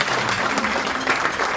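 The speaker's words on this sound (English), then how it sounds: "I'd like everyone to give him a round of applause," An audience at a city business event gives a round of applause, a brief burst of dense, steady clapping from a room full of people.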